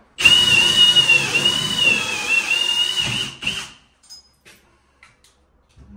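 A drill with a hole saw whines loudly and steadily for about three seconds while cutting a hole during apartment renovation, then stops, followed by a few faint clicks and knocks.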